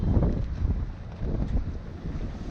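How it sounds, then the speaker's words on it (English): Strong 30-35 knot wind buffets a moored Hallberg-Rassy 54 sailboat at a concrete harbour dock in Bermuda, roaring loud and gusty straight across the microphone with rumbling low-end bluster throughout. "Very windy morning this morning. Even white caps in the harbour. Blowing 30-35 knots."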